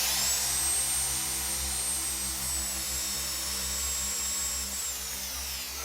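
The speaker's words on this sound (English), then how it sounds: "I can confirm that is a drill, a very dangerous drill" A real working electric drill runs continuously up close with a loud, steady high-pitched motor whine over a low rumble, spinning freely without pause.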